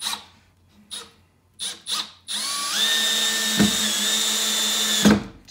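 A Milwaukee M12 half-inch cordless hammer drill/driver whines up and drives a 2-inch screw in one steady, close run after a few short trigger bursts, with a clutch ratchet click at the finish.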